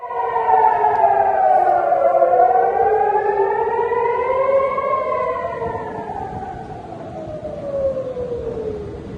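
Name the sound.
air raid siren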